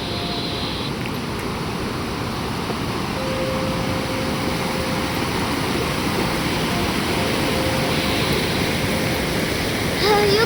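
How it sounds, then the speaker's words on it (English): A fast-flowing stream with a high water current, a loud, dense, continuous rush of water close by, steady throughout with a faint tonal whine running beneath it. "it also has a stream that's flowing"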